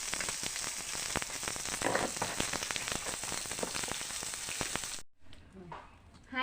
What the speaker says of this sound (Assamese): এয়া মাছটো ভজা হৈ গৈছে